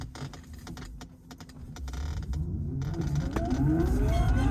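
An electric Porsche 356 conversion pulls away after a gear change in second gear, a thin motor whine climbing steadily in pitch over road and cabin noise that grows louder toward the end.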